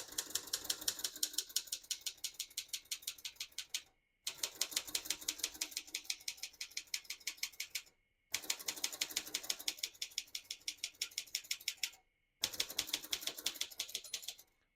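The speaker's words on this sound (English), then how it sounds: "Once you hear the bell, you're near the end of the margin." Rapid, even keystrokes from a 1969 Consul 232 manual portable typewriter clatter in four bursts of steady typing, separated by brief silences where the carriage pauses, with a faint steady tone near each line end suggesting the margin bell.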